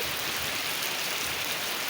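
Steady rain shower falling, an even continuous hiss of drops with no breaks, close and moderately loud, heard alone.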